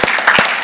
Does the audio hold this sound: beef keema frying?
no